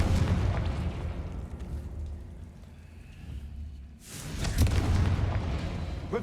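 Loud roaring blasts of the Confringo fire spell in the Hogwarts Legacy video game: a rumbling burst fades into a quieter lull, then a second powerful explosion bursts in and rumbles on to the end.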